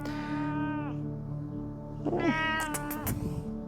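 A cat meows several times up close, drawn-out, tonal cries with a short pause between them, against a quiet background.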